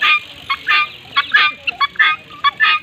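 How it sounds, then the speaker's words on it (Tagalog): Turkeys along a riverbank in Marikina call in a series of short, honking bursts, about ten in quick irregular succession, close and fairly loud. "Ayan yung pabo."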